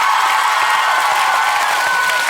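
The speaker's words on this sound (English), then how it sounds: "Give him another massive round of applause." A studio audience at a TV talent show results broadcast claps and cheers in a dense, loud, continuous roar of applause that fills the space with no pauses.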